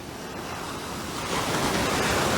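Ocean waves break on a Barbados beach as a broad, steady roar of surf that swells slightly louder midway, with no voices.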